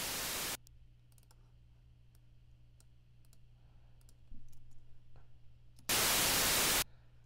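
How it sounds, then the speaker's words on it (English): Two bursts of loud, harsh white noise from a music production session, one at the start and one near the end, separated by quiet hum and faint clicks. "Alright, so now we have our white noise."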